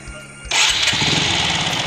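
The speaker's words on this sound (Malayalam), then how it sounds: "വണ്ടി സ്റ്റാർട്ട് ചെയ്യുക." A two-wheeler motorcycle engine starts with a short burst after some quiet clicks, then settles into a loud, steady idle close by.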